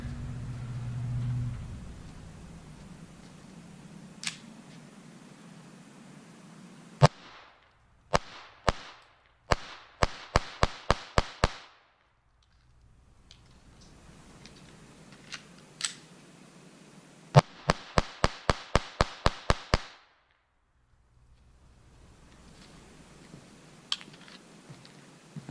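Walther P22 pistol fired in two rapid strings during a two-magazine function test, each burst a quick run of about ten sharp cracks, with quieter handling and ambient noise between them.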